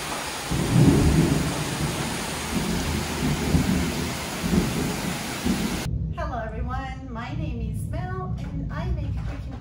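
Heavy rain and rolling thunder from a thunderstorm in Mexico, a loud dense roar with deep rumbles for about six seconds before it drops back and a person talks over the lighter rain.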